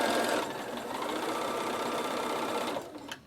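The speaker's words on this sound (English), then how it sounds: "put your needle down, then turn, do 1 stitch and then turn" A Bernina sewing machine stitches through denim with a continuous fast mechanical whir and needle rattle, loud and close, slowing and stopping near the end.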